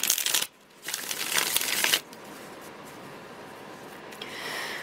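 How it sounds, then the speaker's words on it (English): Two quick bursts of tarot cards being riffled and shuffled close up, a short pause between them, followed by quiet room tone. "One more shuffle for Virgo and all those who love Virgo."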